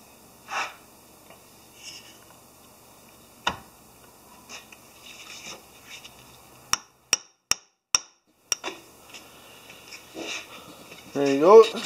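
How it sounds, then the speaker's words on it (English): A CV joint being driven onto a Can-Am axle shaft takes about six sharp, close hammer whacks in quick succession, preceded by scattered handling noises and breathing. "just a couple quick whacks and the boot is on, the joint is on"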